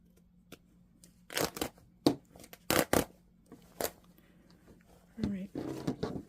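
A paper sewing pattern envelope is ripped open in a few sharp tearing and crinkling bursts, close up, between quieter stretches of handling.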